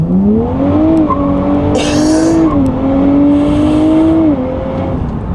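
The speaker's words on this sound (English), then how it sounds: "I'm gonna put my foot all the way on the brake, engage both paddle shifters, floor the accelerator, take my hands off the paddle shifters, and floor it." A 2023 Nissan Z launching hard under launch control with the wheels breaking loose: a loud, close engine note rising through the revs, dipping at gear shifts, with bursts of tire squeal.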